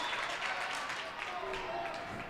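Crowd applauding and cheering after a dual block at the net during a Section III Class B girls' winter volleyball championship, a steady broad wash of clapping in a gym with a commentator talking over it.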